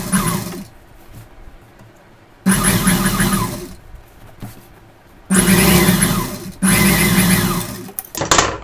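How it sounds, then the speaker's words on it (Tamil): A sewing machine stitches along the edge of a pinafore pocket in close, loud, buzzing runs of one to three seconds, broken by quiet pauses. "அது கீழே வந்து நீங்கள் தையல் போடணும் ஓரத்தில்"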